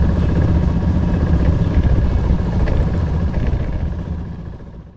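Motorcycles rolling out for a group ride make a loud, steady engine rumble with some mechanical clatter, fading slightly toward the end.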